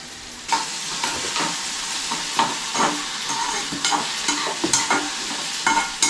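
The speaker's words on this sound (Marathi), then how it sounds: "आला लसणाची पेस्ट." Ginger-garlic paste sizzles steadily in a hot pan, a continuous crackling hiss punctuated by repeated sharp scraping stirs, close and fairly loud with no voices.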